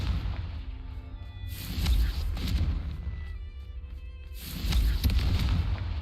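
Confringo spell explosions in Hogwarts Legacy, two deep booming blasts a few seconds apart, each swelling loudly and then fading into rumbling game ambience.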